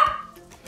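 A dog in a home kitchen gives a single sharp bark at the start, close and loud, followed by a brief quieter yip at the end.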